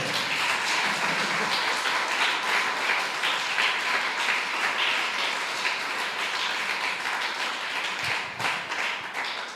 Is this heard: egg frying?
no